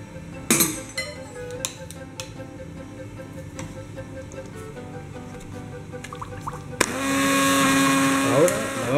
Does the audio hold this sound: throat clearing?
no